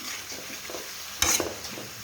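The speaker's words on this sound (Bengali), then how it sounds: "ফুলকপিটায় আগে দিয়ে একটু কষিয়ে নিচ্ছি।" Cauliflower stir-frying in a pan makes a soft, close sizzle with a brief scrape or clatter of the spatula midway, short and fairly quiet, with no voices.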